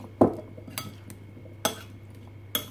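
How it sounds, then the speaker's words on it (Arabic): Spoon stirring cut taro with lemon in a bowl: a few sharp clinks and scrapes spaced irregularly over a quiet background, close and moderately loud. "نجيب بقى معلقه كده نقلب"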